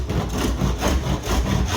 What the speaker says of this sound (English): get my tenon saw, and just chop about 50mm off the end.